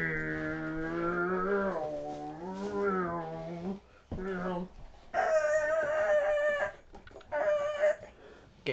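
A human voice imitates car drifting with tire squeals and engine whines, producing wavering, pitch-bending screeches in several bursts separated by short gaps.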